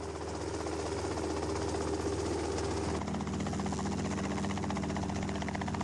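A Bell 47 helicopter, an early commercial rotorcraft, drones steadily and loudly with a continuous engine and rotor hum, its pitch shifting slightly about halfway through, with no voices present.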